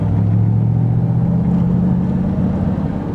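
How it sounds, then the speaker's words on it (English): A 1967 Corvette C2 Stingray with a 7-liter V8 up front drives along, its deep low engine rumble steady and close throughout, with a slight judder and no talk over it. "the car is juddering a little bit with that 7-liter V8 in the front"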